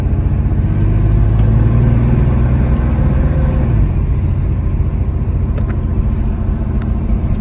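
A 1989 Chevy S-10 pickup truck's engine rumbles close and loud as it drives slowly, a steady low drone with a slight rise in revs midway and no talking.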